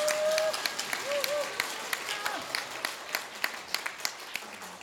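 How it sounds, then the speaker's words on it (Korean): Applause from the audience at a National Assembly forum in Korea, moderate and somewhat distant, a scattering of claps that thins toward the end while a voice speaks briefly at the start. "다시 한번 큰 박수 보내주시면."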